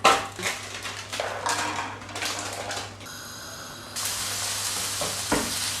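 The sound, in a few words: courgettes and raisins frying in a pan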